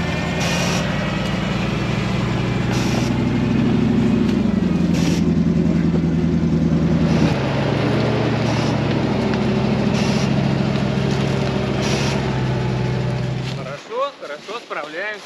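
Off-road truck nicknamed Lesorub with a 7.4-litre V8 grinding along a rough route, a loud sustained engine drone with load shifts and gear changes, cutting out near the end as people talk over it.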